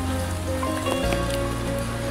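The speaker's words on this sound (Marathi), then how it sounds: "आता आम्ही चाललोय, पाऊस पण आलाय" Steady rain falls during an outing before the Ganesh festival decorations, a dense, continuous patter with no talking and a low hum running underneath.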